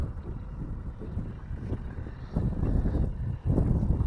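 Gusty wind roars across the microphone aboard a small fishing boat on a fall crappie outing, a continuous low buffeting that grows stronger and louder in the second half, with no voices.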